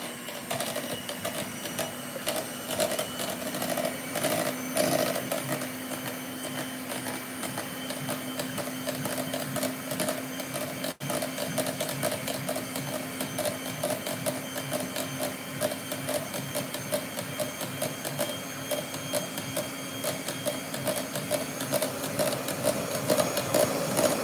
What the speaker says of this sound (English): And we want to whisk it till nice soft peaks.